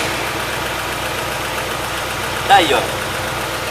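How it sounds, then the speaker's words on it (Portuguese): A car engine at working temperature idles with its radiator cooling fan running, a steady, close mechanical drone, while someone speaks briefly over it. "foi acionada a ventoinha agora pela 5ª vez, isso indicando um motor já em fase de temperatura de trabalho"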